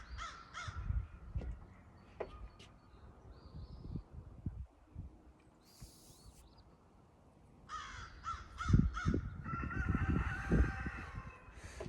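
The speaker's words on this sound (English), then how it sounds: "What's up, Crow?" A crow caws several times outdoors on a mild early-spring day, the calls bursting out in loud clustered runs near the end, with other birds faintly in the background.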